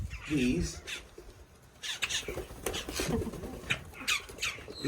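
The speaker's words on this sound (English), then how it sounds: "beautiful birds are actually called boat-tail grackles" Boat-tailed grackles squawk and call near a slowed airboat in the Everglades, sharp bursts scattered through the clip beneath someone talking.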